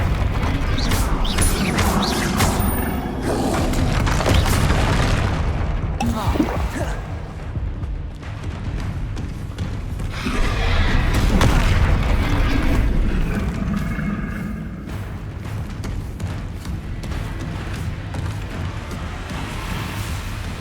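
Bombarda explosion spells blasting in the Hogwarts Legacy video game amid dense combat, loud continuous booms, crashes and rumbling effects layered with game music throughout.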